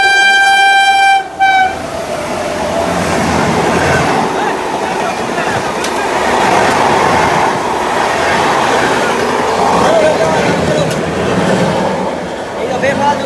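A train stands at Sandila railway station platform: a brief horn sounds at the start, followed by a continuous loud rumble and clatter of rail cars filling the scene.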